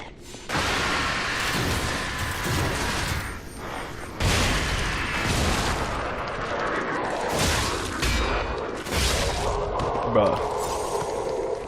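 Explosions and blasts crack out in a video game, several loud bursts with gunfire-like sounds at irregular intervals, mixed with game noise and a player's voice talking.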